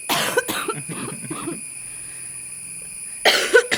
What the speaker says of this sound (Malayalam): എന്താണ് ചുമയൊക്കെ